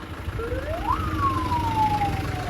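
An ambulance siren sweeps up and then slowly falls away in busy traffic, a single clear wail above a steady rumble of engines.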